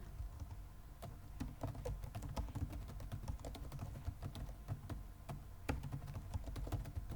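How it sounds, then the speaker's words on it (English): Fast, steady typing on a computer keyboard, with quiet, close key clicks in an irregular rhythm and no talking. "So I'm going to go back and I'm going to type that in."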